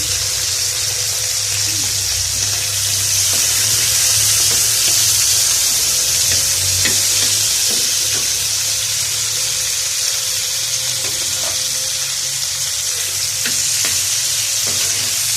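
Small shrimp fry in a pan with a constant close sizzle and crackle, broken now and then by the scrape and clatter of stirring.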